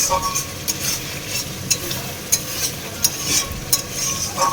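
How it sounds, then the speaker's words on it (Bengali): Egg curry spice masala is stir-fried in a pan, giving a close, steady sizzle broken by regular sharp scrapes and taps of a spatula roughly every half second. "এই যে ডিমের মশলা কষানো হচ্ছে"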